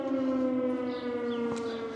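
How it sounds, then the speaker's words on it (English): A fire department siren sounds from a distance in a rural area near an interstate, a steady sustained wail with strong harmonic tones holding level throughout the two seconds. "that's where the siren's coming from"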